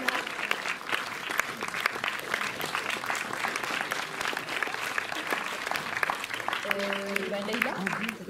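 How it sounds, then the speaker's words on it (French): Audience applause at an award ceremony in a cinema, a steady dense clapping that holds for the whole stretch, fairly loud and close, with a few faint tones and murmurs near the end. "c'est fait pour que vous ayez des applaudissements"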